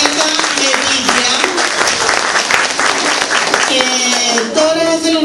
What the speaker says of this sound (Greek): Χειροκροτήστε όλα τα παιδιά για τις προσπάθειές τους